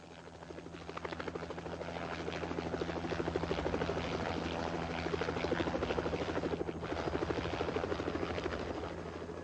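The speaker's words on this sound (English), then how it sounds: "Meanwhile, a second helicopter was ordered up." A rescue helicopter flies on a mountain, its rotor thumping fast and steadily with a constant engine whine, loud and close the whole time.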